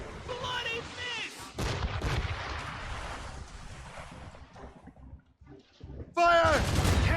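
Ship cannons boom in a naval battle in Assassin's Creed Rogue, heavy low blasts and rumbling over wind and waves, with shouted voices at the start and end.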